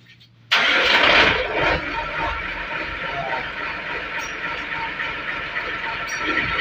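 Hino 235 truck engine with a custom round-pipe exhaust roars in abruptly after a brief quiet moment and holds a loud, steady, close rumble.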